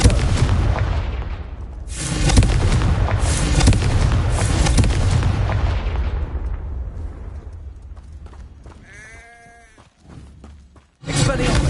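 Blasting-spell explosions in Hogwarts Legacy: several heavy booms and crackling blasts build up and then fade into a quieter stretch, with brief voice-like tones near the end before another burst.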